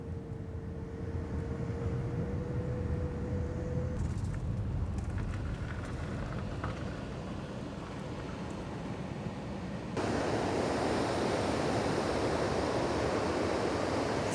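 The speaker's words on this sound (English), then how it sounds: "Look how white the waves are." Ocean surf near Gansbaai, South Africa, rolls in as a broad, steady wash of white noise that swells noticeably louder toward the end, with a faint tonal hum early on.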